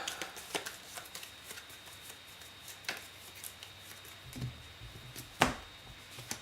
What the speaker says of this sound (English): Shuffle it in my deck